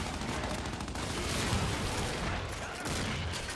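Sustained gunfire in the shooter game Gears 5 rattles continuously for several seconds, a loud dense fusillade of overlapping shots and bursts with no voices over it.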